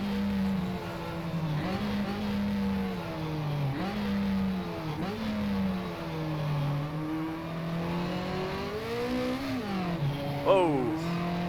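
A Lotus Cortina from the GT Legends Historics mod drifts around Oran Park in rFactor, its engine droning and rising and falling through repeated revs and gear changes, with a brief tyre squeal near the end.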